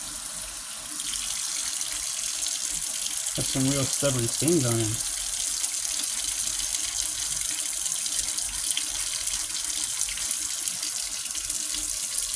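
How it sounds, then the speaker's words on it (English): Hot water runs from a tap into a sink as a Cabbage Patch Kids doll gets a bath, a steady splashing stream throughout, with a short burst of speech near the start. "Hot water."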